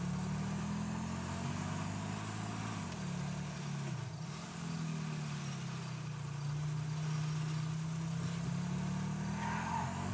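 A car engine in the video game GTA V hums steadily while driving, its pitch dipping briefly as the throttle eases before settling back into a constant mid-range drone, with no talking.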